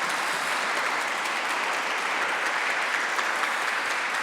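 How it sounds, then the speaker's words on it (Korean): A Korean church congregation in Augsburg applauds during an elder ordination service, a steady, dense roll of many hands clapping at moderate distance with no break. "박수로 축하해 주시면 좋겠습니다."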